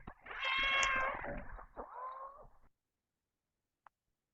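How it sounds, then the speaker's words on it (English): A cat meows in one long, loud wavering call followed by a shorter second meow, then silence broken by a tiny click, played as a sample input in an audio classifier demonstration. "the classifier predicted cat meowing"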